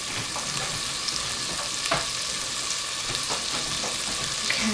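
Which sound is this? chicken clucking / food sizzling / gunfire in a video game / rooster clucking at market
food sizzling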